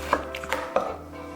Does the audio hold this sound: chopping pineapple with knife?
yes